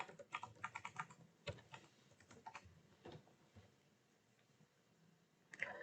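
Someone types a command on a computer keyboard, quick bursts of crisp key clicks with short pauses between them, close and fairly quiet.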